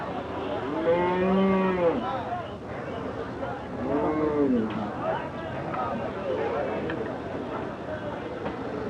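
Several large Sahiwal cattle at a busy livestock market low loudly, two long mooing calls standing out near the start and middle over steady crowd murmur and background chatter.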